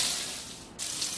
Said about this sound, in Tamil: இதில் நாம் வெட்டி வச்சுருக்க வெங்காயத்தை